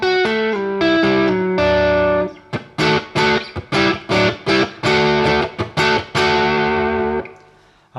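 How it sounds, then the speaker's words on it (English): Distorted electric guitar plays loud chords, first sustained, then a run of choppy, rhythmic stabs before ringing out and fading. "When we play with the distorted guitar sound"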